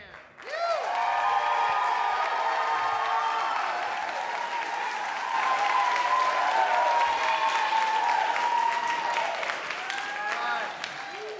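Audience applause for a band at a homegrown songwriters showcase in Laurens, sustained and full for about ten seconds with some cheering mixed in, then tapering slightly at the end.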